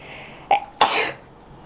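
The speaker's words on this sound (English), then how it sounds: "Hold on, I'm gonna sneeze." A single person's sneeze in a room, a short sharp intake burst followed by a louder broadband expulsion lasting about half a second, close to the microphone.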